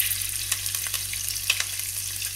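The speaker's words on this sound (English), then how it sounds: "quickly add green chilies. You can remove the seeds if you like. Give them a fry for about 30 seconds." Green chilies frying in hot oil in a pan for a Bombay potato curry, a steady close hiss and crackle with a few soft stirring taps, no voices.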